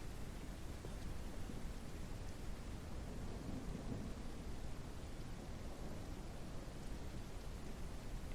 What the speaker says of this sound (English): It's not ideal that it's raining right now, but we'll work with it.